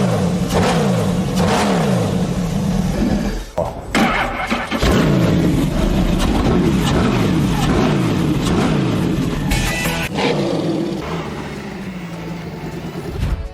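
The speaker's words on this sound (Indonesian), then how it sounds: "Motor ini tidak main-main karena dibekali mesin Viper V10 dengan tenaga 500 horsepower." Dodge Tomahawk motorcycle with a 500-horsepower Viper V10 engine roaring loudly and continuously, rising and falling through revs with deep throaty pulses, close and dominant throughout.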